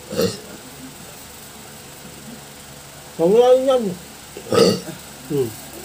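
Someone's two-day bout of hiccups after a Jollibee mukbang: a few short, sharp throat jolts, each standing apart, mixed with voiced gulping sounds close to the mic while people talk nearby.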